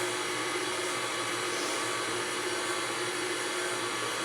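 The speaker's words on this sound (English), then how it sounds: "we are just going to use our paddle attachment and let that slowly blend together" A stand mixer with a paddle attachment blending dry fondant mix with nuts, a steady motor whir running continuously and evenly, close and moderately loud, with no one talking.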